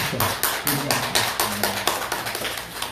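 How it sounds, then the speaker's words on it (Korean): A church congregation claps in greeting during a Sunday service, producing a steady run of rhythmic hand claps with a faint low voice or tone underneath. "우리 박수로 인사하겠습니다"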